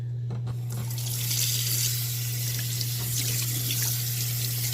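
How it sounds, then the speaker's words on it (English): Steady tap water runs and splashes continuously into a basin while rinsing a dog, fairly close and even, with a constant low hum underneath. "we're going to give it a good rinse. Make sure the water is okay"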